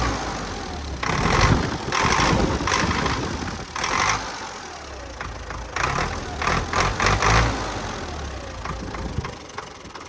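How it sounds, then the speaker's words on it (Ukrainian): The D-242 diesel engine of an MTZ-82 tractor idles with a rough, knocking mechanical rumble, rising and falling in uneven surges. "звук мотора трішки змінився"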